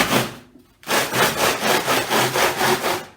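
Rhythmic back-and-forth sanding of the wooden side edges of a guitar body, preparing them for the top and back plates: steady, close strokes about three per second after a brief pause, with no talking.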